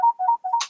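Mobile phone ringtone heard up close, a short repeating electronic melody of bright warbling tones, cut off after under a second.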